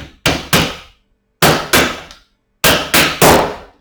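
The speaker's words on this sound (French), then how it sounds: "je prends le marteau" Hammer striking wooden dowels into a woodworking joint: three groups of two or three sharp, loud blows each, separated by short pauses, close and with no talking.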